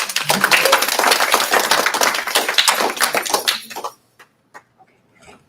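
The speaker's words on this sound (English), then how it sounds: "let's give him a round of applause" A room full of people claps loudly for about four seconds, the applause then tapering off into a few scattered final claps.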